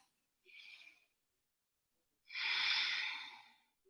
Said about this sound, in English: we'll take a nice deep breath